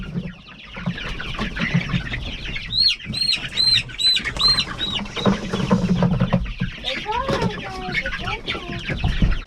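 Chickens cluck and squawk inside a brooder house, with wings flapping and a busy, close flock chattering over a steady background din, and a voice talking faintly underneath.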